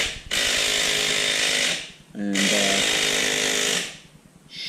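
A power tool cuts through the head of a bolt during a lawn tractor motor swap, in two long, loud, steady grinding bursts separated by a brief pause, with a single spoken word.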